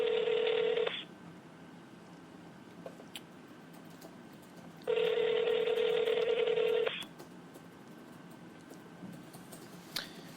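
A phone ringing tone sounds twice, a short burst at the start and a longer two-second ring a few seconds later, with quiet background between.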